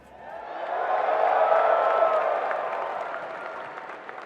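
A packed audience at the Guilty Gear Strive top 6 finals at EVO 2024 breaks into applause and cheering, swelling to a dense roar of clapping, then slowly tapering off.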